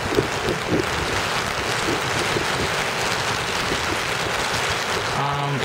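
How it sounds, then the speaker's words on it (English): Storm wind and rain from Tropical Storm Irene in Boston, a steady broadband roar of gusting wind and rainfall that stays loud and constant throughout, with faint muffled sounds low underneath. "It doesn't seem like the wind is picking up any more than it has been."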